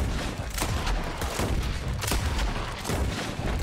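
Rapid bursts of gunfire in Red Dead Redemption 2, several overlapping shots crackling steadily through the whole stretch, loud and dense like a close-range firefight with no pauses.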